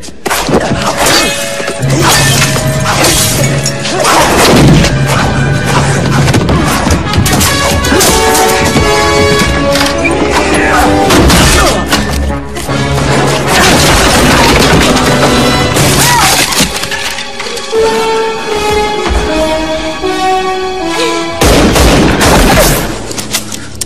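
Rapid gunfire and crashing blasts from an action film starring Jackie Chan, with Turkish dubbing, form a loud, dense barrage that runs almost without a break, layered with smashing impacts and a busy score.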